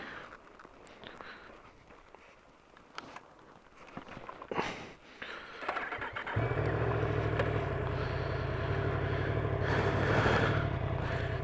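A Yamaha MT-10 motorcycle pulls away and rides on, its engine settling into a loud, steady drone with a strong low rumble that persists for the last five seconds after some quieter shuffling and handling noises.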